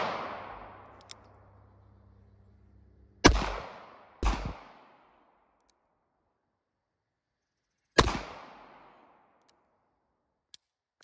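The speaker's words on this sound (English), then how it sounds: "I'm gonna try to shoot with my right hand and aim through the camera" Three sharp handgun shots fired at uneven intervals outdoors, each a loud close crack with a ringing decay, with a fainter tick after them.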